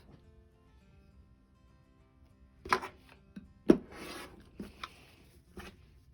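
Fabric quilt panel being trimmed, likely with a rotary cutter along a ruler, giving a few separate rasping, scraping strokes close by, with quiet pauses between them.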